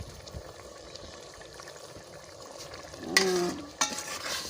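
Masala fries in a pressure cooker, a faint steady sizzle that swells into louder crackling and stirring scrapes toward the end.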